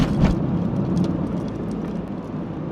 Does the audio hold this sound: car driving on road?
yes